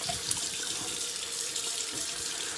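Tap water runs steadily from a faucet into a sink to rinse alum off the skin after shaving, a close, continuous hiss with no talking.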